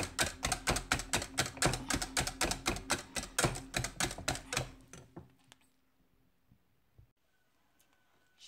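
Whisk beating thickened cream in a bowl off the heat, rapid regular clinking strokes for about five seconds, close and crisp, then stopping, leaving near silence with a single faint knock.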